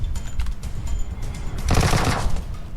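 Rapid machine gun fire in the PUBG Mobile video game, a loud, continuous burst of automatic shots that grows denser and harsher toward the end, with no talking.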